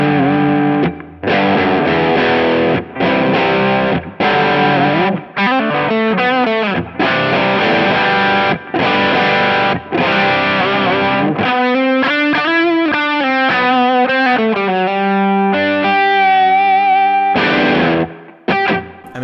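Electric guitar on the bridge humbucker driven through a Kingsley Jouster overdrive pedal, playing a run of loud, distorted chords and single-note lines with short gaps, crunchy and mid-heavy, without any talking.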